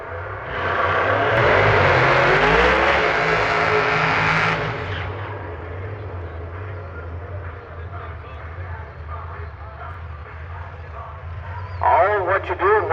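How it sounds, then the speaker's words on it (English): A drag race car at Milan Dragway roars loudly on the gas, its engine spitting and popping before the blast drops to a rougher, lower idle while an announcer talks over it. "Sullivan, he stepped on the gas and it started spitting,"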